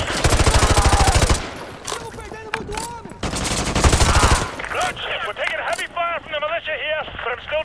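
Rapid bursts of machine gun fire in the video game Call of Duty Modern Warfare 2, loud and dense at the start and again mid-clip, then fading as several voices talk and shout over the battle.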